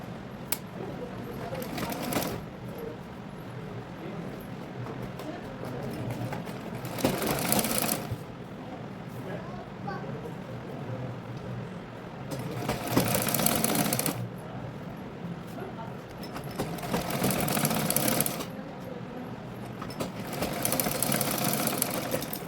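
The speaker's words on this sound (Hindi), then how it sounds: "उल्टा करके इस पट्टी को भी इस तरह रख कर अपन इस पर सिलाई देंगे" Sewing machine stitching a strip onto a blouse, heard in several separate bursts of steady whirring with quieter handling sounds in between.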